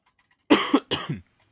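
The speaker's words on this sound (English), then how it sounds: "when I've coughed so much in the last, 8 minutes of this podcast?" A person who is sick coughs twice in quick succession, each cough a sharp double burst, close and loud against silence.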